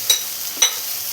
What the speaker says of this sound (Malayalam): ഇതിലോട്ട് ഇനി ഒരു തക്കാളി ചോപ്പ് ചെയ്ത് വെച്ചത് ചേർത്ത് കൊടുക്കാം.